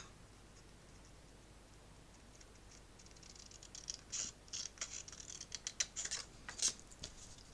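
Scissors cut paper for a pop-up album: after a few quiet seconds, a close run of small crisp snips and ticks builds up, ending in a sharper louder cut near the close.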